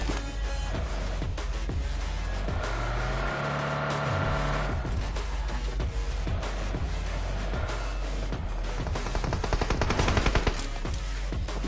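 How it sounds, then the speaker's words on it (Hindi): Gunfire in a battle royale video game, a dense and continuous stream of rapid shots and bursts that stays loud for the whole stretch, with an engine-like rumble underneath and no voices. "मुझे यहाँ बंदों के शॉट्स की आवाज़ आ जाते हैं"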